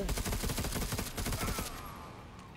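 A rapid, loud burst of overlapping gunshots from combat in the Necromunda: Underhive Wars game fires for about a second and a half, then a ringing tail fades out.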